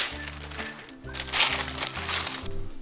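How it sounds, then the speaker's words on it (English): Parchment paper crinkles close by in short bursts as it is laid into a baking pan, with a steady low hum running underneath. "Just put a parchment paper down."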